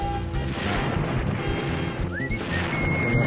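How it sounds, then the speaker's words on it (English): Explosions and impacts in the kart racing game Roblox Super Roblox Kart: a dense, continuous barrage of crashing blasts and rattling bursts, loud and close, with a rising tone sweeping through near the end. "Where the explosions are."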